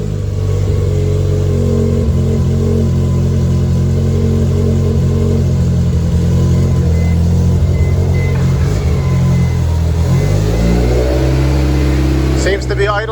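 A Honda S2000 race car built for NASA ST5/TT5 racing runs with a loud, steady engine drone close by, shifting pitch near the end as the revs change, with a voice speaking over it.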